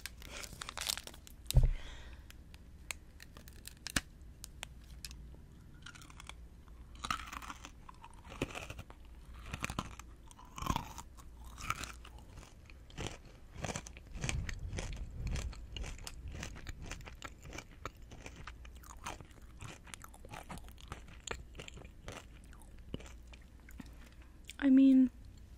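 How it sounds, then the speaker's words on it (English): Close, crisp chewing and crunching of a peanut chocolate bar, with wrapper crinkles and bites repeating irregularly and a short voiced sound near the end. "Love a good peanut crunch."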